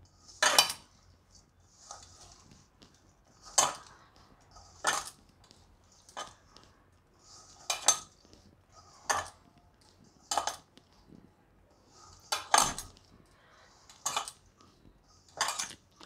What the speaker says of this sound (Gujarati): હવે આપણે એમાં લીલા ધાણા નાખી દઈશું બધું આપણે હાથેથી એકદમ મિક્સ કરી લઉં આ રીતે